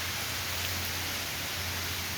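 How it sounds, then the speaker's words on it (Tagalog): Steady heavy rain hisses evenly and continuously throughout, a dense broadband wash with a low hum underneath and no voices. "Malakas pa rin ang ulan"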